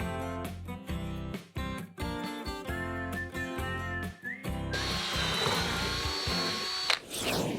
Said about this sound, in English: Once you've drilled the holes in your cross braces, you're now going to fasten them to the frame.